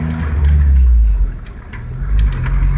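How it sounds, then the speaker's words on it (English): A Jeep engine pulls hard in second gear on a rough road, with a loud, steady low rumble that dips briefly in the middle and then swells again, heard close from inside. "get up some speed and then go to second"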